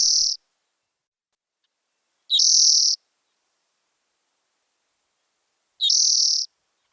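In winter grassland bushes at Monte Bello Preserve, birds give three short, high, clear calls spaced a few seconds apart, with near silence between them.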